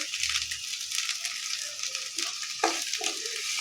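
Whole spices fry and roast in a pan with a continuous bright sizzle and crackle, occasional stirring scrapes and pops, close and fairly loud with no talk.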